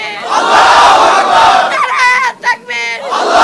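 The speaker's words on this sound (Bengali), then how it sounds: "মধ্যরাতে নারায়ে তাকবীর ধ্বনিতে মুখর জগন্নাথ বিশ্ববিদ্যালয় ক্যাম্পাস।" A large crowd on the Jagannath University campus chants Nara-e-Takbir at midnight, with loud, forceful shouts rising together in unison and a brief pause before the chant swells again.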